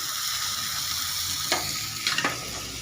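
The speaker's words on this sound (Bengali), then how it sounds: "এদিকে আমি মশলাটা কষতে থাকলাম" Cauliflower, potato and spices fry steadily in a pan for khichuri made with Gobindobhog rice, with a constant close sizzle and a few scraping strokes of stirring.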